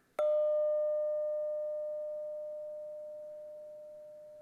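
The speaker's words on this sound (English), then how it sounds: "Here's a bell. It's a metal bell." A metal bell struck once, giving a sharp clang that settles into a clear, pure ringing tone, decaying slowly over several seconds in otherwise silent surroundings.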